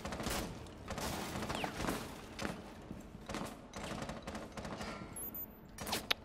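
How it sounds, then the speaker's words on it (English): Bursts of rapid gunfire in a video game firefight, sharp repeated shots with a few thuds between, loud and close with no talk over it. "Watch out, I'm shooting the shit out of it"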